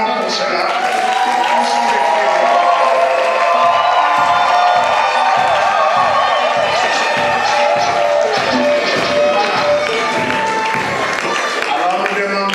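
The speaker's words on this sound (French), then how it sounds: "Et nous acclamons pour cela." Wedding guests at a nuptial blessing cheer, whoop and applaud the newlyweds, a loud, sustained crowd roar with rhythmic clapping running through it from start to finish.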